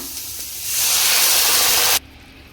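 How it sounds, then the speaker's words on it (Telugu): Water poured into a hot pan of soup vegetables with sweet corn gives a loud, hissing rush that builds up, holds for over a second, then cuts off sharply. "ఇప్పుడైతే నేను వాటర్ పోస్తున్నాను"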